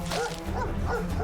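A dog barks and yips in the Stoneshard video game, a short burst of a few quick, close barks over a steady background.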